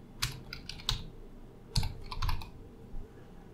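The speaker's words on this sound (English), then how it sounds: "as soon as we start typing something" Keys tapped on a computer keyboard nearby, in a few short, irregular clusters of quiet clicks with brief pauses between them.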